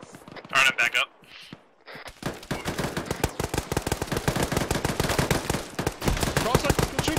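Rapid gunfire erupts in a military realism video game, dense bursts of automatic rifle and machine gun shots in a fast ragged rhythm, after a brief moment of voice chat at the start.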